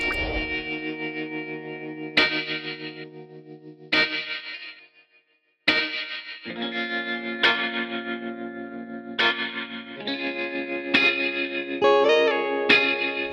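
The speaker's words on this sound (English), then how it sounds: "So I went back into the mini stash and grabbed these guitar accents to really enhance that soulful sound." Soulful guitar accent phrases from a sample kit, heavily effected with distortion, chorus and reverb, play as a series of short strummed chords and licks with a brief silent gap midway, no talking.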